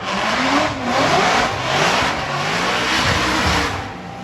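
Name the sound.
drift car engine revving with Borla exhaust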